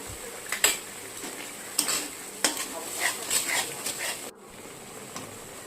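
A spoon stirs kadai paneer in a pan after water goes in, with sharp clinks and scrapes of utensil on metal over a low bubbling sizzle; the cooking stops abruptly near the end, leaving a quieter background.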